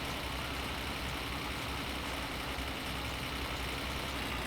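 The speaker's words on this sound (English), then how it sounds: "That was just completely unnecessary engine noise." A car engine in My Summer Car revs in the wrong gear, a steady, droning hum that stays fairly faint and unbroken, with no talk over it.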